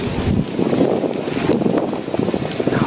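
Wind gusts and rumbles steadily across the microphone outdoors during an ice storm cleanup in Mississippi, a loud continuous buffeting with no voices.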